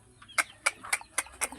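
Chickens clucking near a water trough on a small farm, about five short, evenly spaced calls over a quiet background with no talk.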